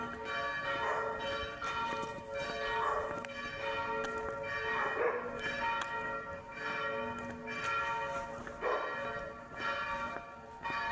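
Church bells ring repeatedly in an overlapping, steady peal, heard from a moderate distance with no talking.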